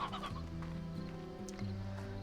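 Roosters in the Slime Rancher video game clucking and crowing in overlapping tones, a continuous busy fowl chorus at steady moderate loudness with no voices over it.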